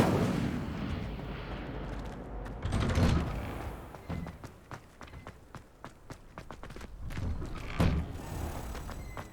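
Spell effects from the Hogwarts Legacy video game, including a cast Incendio fire spell, come as a series of sharp thumps and bursts over a busy game soundscape, with one heavier whoosh near the start and more close hits later on.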